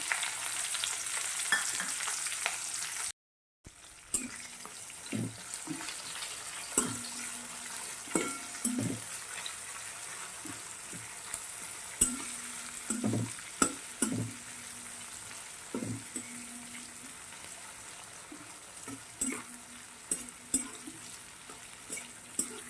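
Long-sliced onions fry in oil with red chilies and bay leaf, a soft, close, steady sizzle punctuated by repeated light stirring taps and scrapes after a brief cut.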